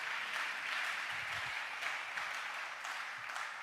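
A church congregation applauds during a Telugu Christian sermon, a steady wash of many hands clapping together at moderate distance, sustained and even throughout with no voices standing out.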